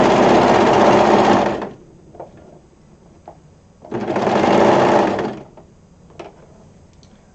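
A serger sewing machine stitches fabric in two loud, fast whirring bursts of about two seconds each, separated by a quiet gap with small handling clicks.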